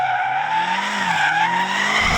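Tyres squeal loudly and continuously as a performance car slides under power, the screech wavering in pitch with an engine note beneath, close and alone.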